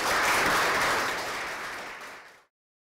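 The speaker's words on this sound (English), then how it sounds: "Can we give them a round of applause?" Audience at a journalism talk applauding panellists: a dense, steady wash of many hands clapping that swells briefly then slowly tapers off, with no talk over it.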